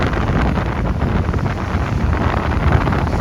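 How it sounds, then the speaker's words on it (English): Strong Patagonian wind buffets the microphone in a loud, constant roar with gusty fluctuations and low rumble, filling the whole stretch with no voices. "Life really is ruled by the wind here."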